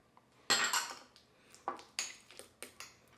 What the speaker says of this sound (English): we're going to just mix this together and create a nice little garlic buttery paste